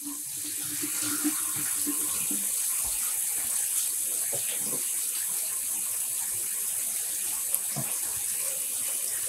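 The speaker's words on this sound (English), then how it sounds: "I'm gonna add some water again." Water runs steadily from a tap into a basin for a yarn rinse after dyeing, a continuous hiss at moderate level throughout with no pauses.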